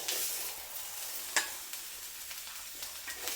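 Mushrooms fry on a tawa while being stirred, a soft, steady sizzle with a single sharp utensil clink and lighter scraping taps throughout.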